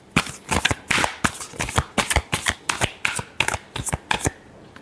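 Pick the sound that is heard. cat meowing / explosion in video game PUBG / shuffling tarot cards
shuffling tarot cards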